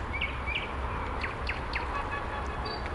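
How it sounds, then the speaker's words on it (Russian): Faint nightingale song comes from bushes in the distance: a few short chirping and whistled phrases over steady outdoor background noise. "где поет соловей"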